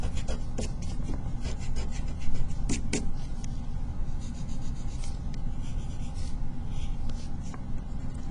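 An eraser rubs back and forth across paper to remove pencil lines from a drawing of a street done with a ruler, a steady close scratchy friction punctuated by a few sharper taps, with no talking.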